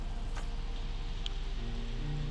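Steady rain falls early in the morning in a Sherlock Holmes Chapter One memory scene, a faint, even hiss of drops with a couple of soft ticks and a low hum underneath.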